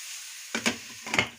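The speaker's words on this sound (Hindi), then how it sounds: "अच्छी तरह से हिला लेना है इसको" Chana chaat mixture is stirred in a pan, giving two short bursts of scraping and clattering against a quiet, faintly hissing background.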